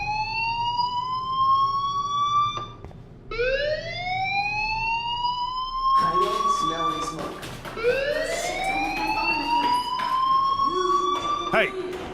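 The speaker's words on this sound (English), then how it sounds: "do you hear that fire alarm?" A fire alarm in a building wails in long rising sweeps, repeating several times with a brief gap, loud and steady, with background chatter underneath.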